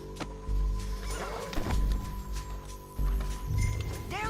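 Horses gallop in Red Dead Redemption 2, a steady clip-clop of hooves running under shouting and loud game action, with bursts of noise throughout.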